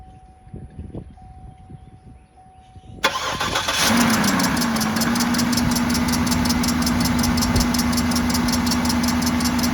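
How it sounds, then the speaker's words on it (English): A 2007 Cadillac DTS cranks over with a quick starter whir and catches, then settles into a loud, steady idle with a faint repeating chirp from a suspect power steering pump. Some quiet handling noises come just before the start. "we're going to start the car up."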